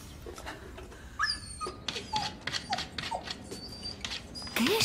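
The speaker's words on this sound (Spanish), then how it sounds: "Es el perro de los Johnson" A neighbour's pet dog whimpers and yips in a series of short, high whines and squeaks, moderately close, with faint rustling between them.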